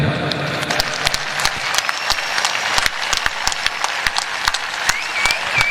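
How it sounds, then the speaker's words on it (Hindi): Loud, dense applause from an audience at a talk recounting the Kargil war, steady rapid clapping filling the room for several seconds with a faint murmur of voices underneath. "यादव साहब ने 18 गोलियां खाई, उसके लिए जितनी तालियां बजाएं बजा लें"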